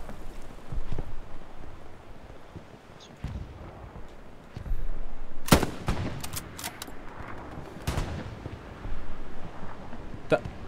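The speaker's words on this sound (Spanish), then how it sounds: "¿Me está disparando un tanque?" Tank cannon fire in Hell Let Loose, several sharp distant booms scattered over a rumbling battlefield backdrop of scattered gunfire, heard without talk.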